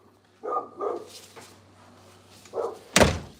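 A dog named Roxy on a front porch gives a few separate barks, then a sharp louder burst near the end, with quiet background between them.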